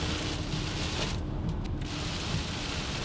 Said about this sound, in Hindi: बड़ी जोर से बारिश लगी यार।